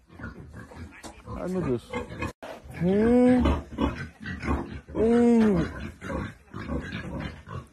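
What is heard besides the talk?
pig grunting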